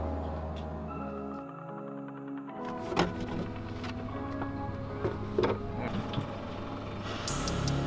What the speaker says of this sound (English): So we got a Volkswagen fuel pump and fuel filter pumping this.